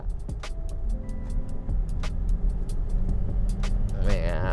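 A Volvo XC90 diesel with a clogged soot (DPF) filter revs as the accelerator is pressed, giving a loud, steady engine drone with rising tones; a voice talks over it.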